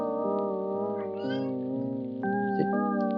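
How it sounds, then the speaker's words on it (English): A cat meows insistently indoors, a few drawn-out, wavering, nasal calls close to the listener, running nearly back to back with small pitch jumps between them. "Why are you meowing?"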